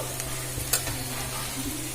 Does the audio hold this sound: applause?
no